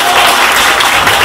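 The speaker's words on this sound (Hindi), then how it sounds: "एक बार जोरदार तालियों से आप मेरा हौसला मुझे दे दीजिएगा" Loud, dense audience applause at a school poetry gathering, a steady wash of many hands clapping close by with no pause across the short stretch.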